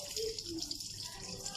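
Steady running water from a tap during hand washing for wudu, a continuous hiss and gush that holds evenly throughout, close by and moderately loud.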